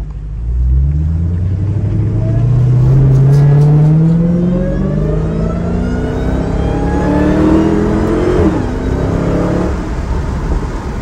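A Dodge Challenger Hellcat V8 revs hard while driving in Las Vegas, its loud, deep roar climbing in pitch through the gears, dipping and rising again, close and continuous.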